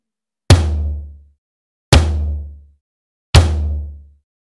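Three evenly spaced drum hits, each a sharp attack with a deep ringing tail that fades out before the next; no talking.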